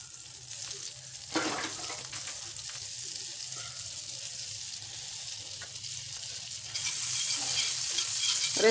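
Malai soya chaap frying in butter in a pan, a soft steady sizzle close by that grows louder and brighter toward the end, with a few faint utensil touches.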